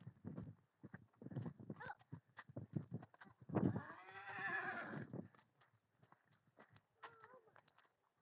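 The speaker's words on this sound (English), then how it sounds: "Show you how to park a horse." A horse being walked to a hitching post on a Sunday ride, its hooves clip-clopping in a steady walking rhythm, with a neigh or snort midway and faint voices now and then.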